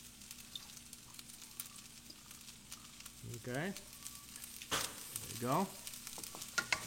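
Food sizzles in olive oil in a pan, a soft crackle under scraping stirs and clatter, with a voice speaking briefly.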